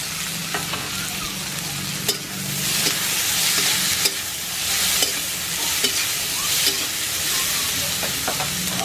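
Chopped tomato and garlic frying in a pan for a Bengali eggplant and small hilsa curry, a loud continuous sizzle with rhythmic spatula scrapes and knocks against the pan, close up with no voices.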